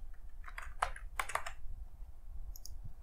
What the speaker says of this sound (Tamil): ஸோ இந்த இடத்துல நான் வந்து சும்மா டைப் பண்ணுறேன்.